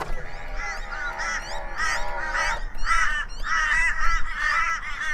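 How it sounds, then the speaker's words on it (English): Many birds call repeatedly in harsh, overlapping caws from a flock nearby, continuous and fairly loud against a low outdoor rumble. "There are crows everywhere. Let's listen to them."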